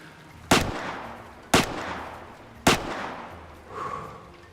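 Three loud, sharp gunshots from a game, evenly spaced about a second apart, each followed by a brief echoing decay, then a softer rumbling tail.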